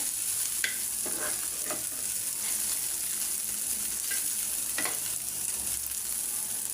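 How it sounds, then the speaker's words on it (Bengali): Small chanda fish stirred in a frying pan, a steady sizzle of oil with a few scraping stir strokes of a spatula against the pan, close and continuous. "এই যে দেখেন আমি আরেকবার নাড়া দিয়ে থাকি, পোড়া পোড়া করছি আজকে"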